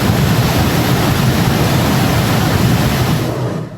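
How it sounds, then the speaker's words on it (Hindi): Floodwater roars after a cloudburst in Jammu-Kashmir, a loud, dense, unbroken rush that eases slightly at the very end, with no voices over it. "पानी की तेजी से आपको अंदाजा होगा कितना भयावह मंजर रहा होगा।"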